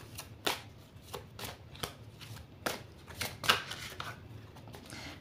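A deck of oracle cards being shuffled by hand, close and fairly quiet, with repeated bursts of riffling and flicking every second or so and no talking.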